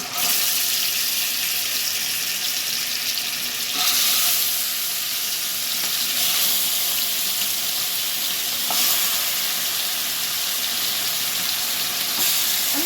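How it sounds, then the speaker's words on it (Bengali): Chicken pieces frying in hot ghee in a pan, a loud steady sizzle with bursts of hissing spatter as pieces go in one by one. "আঁচটা কমিয়ে দিয়ে একটা একটা করে চিকেন কিন্তু আমি এতে দিয়ে দেব"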